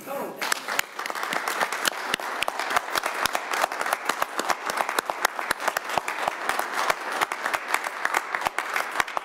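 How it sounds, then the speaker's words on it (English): A round of applause from an audience at a political event, dense steady clapping with sharp individual claps standing out, sustained for around nine seconds. "ask everyone just to do a quick round of applause for him"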